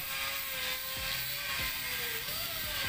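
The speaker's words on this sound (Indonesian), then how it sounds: "memakai gerinda saja untuk mempercepat" Angle grinder whirring steadily against a thick cast polyester resin table with wood inside, a continuous high mechanical whine with shifting pitch and occasional dips, loud and close throughout.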